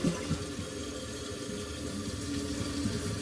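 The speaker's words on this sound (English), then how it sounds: "Alright, so we're flushing it now." A toilet flushes right after a repair job, with steady rushing water and refill noise running continuously throughout at close range, no voices.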